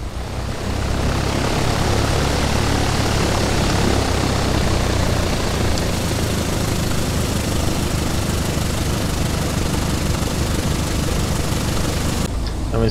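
Steady, loud propeller engine drone and whine of a Piper Cherokee 180 taxiing in a flight simulator, continuous and close for the whole stretch with a sharp cut near the end.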